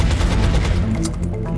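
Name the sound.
gunshot in the video game XCOM Enemy Within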